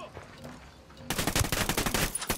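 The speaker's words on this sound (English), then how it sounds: "Let's just go open fire, man." Gunfire in Ghost Recon Wildlands, a sudden rapid automatic burst of close, loud shots in quick rhythmic succession that keeps going after a short quiet lead-in.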